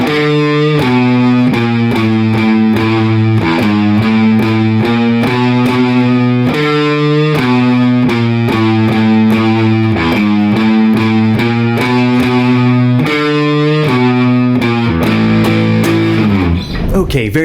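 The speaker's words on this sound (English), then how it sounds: "put all that together and we have the bridge riff" Distorted electric guitar chugging through a bridge riff, loud heavy palm-muted power chords in a steady driving rhythm, played alone and ringing out at the end.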